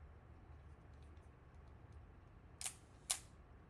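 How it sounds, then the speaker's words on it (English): Two sharp mechanical clicks from a Nikon FM10 film camera's shutter, the second a little louder, come after a quiet stretch of faint handling noise. "Crank, now watch that shutter."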